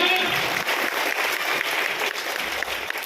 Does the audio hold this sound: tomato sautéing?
no